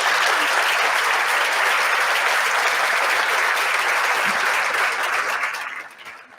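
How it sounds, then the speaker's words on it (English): A dense, sustained round of audience applause at an awards event, loud and continuous before tapering off over the last second. "would you stand up so we can give you a round of applause?"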